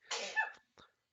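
A single sharp, breathy sneeze bursts out close to the microphone, followed after a brief pause by a short, faint catch of breath, with nothing else around it.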